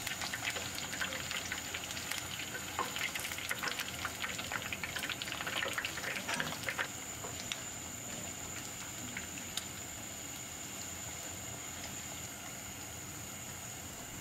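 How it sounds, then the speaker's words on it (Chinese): Chicken strips deep frying in oil over medium heat give off a dense, crackling bubble that is busiest early on and then settles into a quieter, even hiss. "用中火炸， 炸的时候要勤翻面，"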